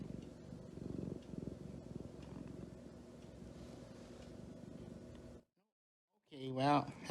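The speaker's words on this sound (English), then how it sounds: "And Patches is purring." A pet cat purrs up close, a soft, low, rhythmic rumble that runs steadily for several seconds before stopping, followed by a brief burst of nearby human talk.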